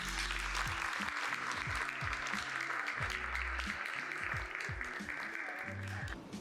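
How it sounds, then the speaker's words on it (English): An audience at an evening awards and recognition event claps in applause, a dense wash of clapping throughout, fairly faint and distant, mixed with low tonal music and some room noise. "So please give yourself a round of applause"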